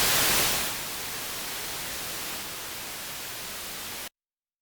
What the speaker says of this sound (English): The rightmost output is just plain white noise.